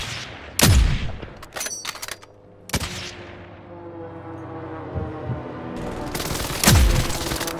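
Gunfire in Call of Duty: Modern Warfare, sharp close shots at a few scattered moments with one rapid burst, separated by quieter game ambience and a faint low hum.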